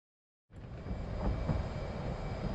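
An F/A-18 jet's engines at full power during a carrier landing in DCS, a steady, heavy roar that kicks in abruptly after half a second of silence and holds without a break.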